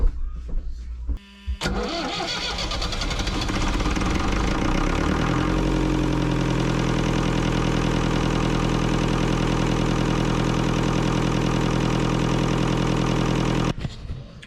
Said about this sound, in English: I'm gonna start the engine up